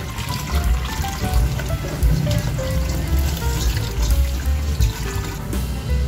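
Okra is washed under running water in a home kitchen, with a continuous close splashing and trickling stream of water pouring over it.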